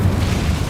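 An Incendio fire spell bursts in Hogwarts Legacy inside a goblin mine, a brief, loud, low booming whoosh lasting well under a second.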